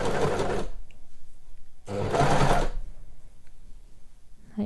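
A sewing machine stitches around a sweatshirt cuff in two loud, close bursts of rapid motor-driven whirring separated by a pause, with no talking.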